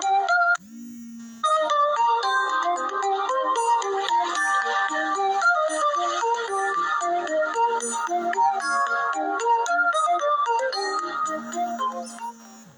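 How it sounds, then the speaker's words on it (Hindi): A phone ringtone plays through a ritual lesson, a bright melodic electronic tune repeating steadily at moderate loudness for the whole stretch, with a brief pause near the start and no voices over it. "पढ़ाते ही समय फोन भी आने लगता है"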